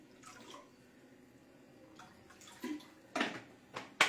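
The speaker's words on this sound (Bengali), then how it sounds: "দিয়ে দিচ্ছি জল।" Water is poured into a pot on the gas stove to boil noodles, heard as faint, intermittent splashes and trickles that grow louder toward the end, with no talking.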